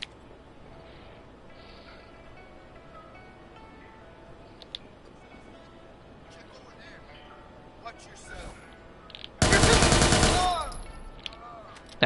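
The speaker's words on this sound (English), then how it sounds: "we're just gonna shoot our way out" Gunfire in Watch Dogs 2 breaks out after a stretch of quieter ambience and talking, a loud dense burst of automatic shots lasting a couple of seconds and then fading out.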